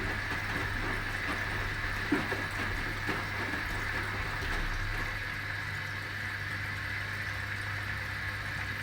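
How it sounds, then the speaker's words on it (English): A Hotpoint washing machine running its final rinse with fabric softener added gives a steady mechanical hum with a constant low drone and faint water sloshing, unchanging throughout, with no voices. "So this is the final rinse."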